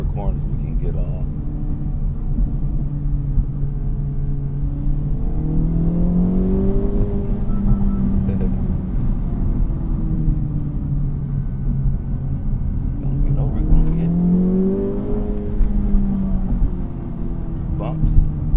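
Acura Integra Type S driven through corners, its engine note rising and falling in smooth rev sweeps over a steady road rumble from inside the cabin, continuous and fairly loud.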